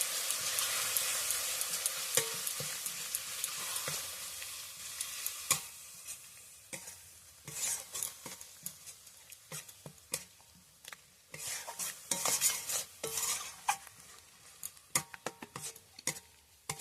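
Coriander leaf paste is stirred into a bubbling sweet-sour pickle in a pan, producing a soft sizzle under repeated spoon scrapes and sharp clicks against the metal, irregular and close.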